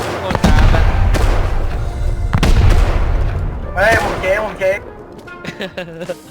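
Explosive charges and rocket launcher blasts going off in the survival game Rust, several loud booming hits in quick succession, then fading into excited talking among players.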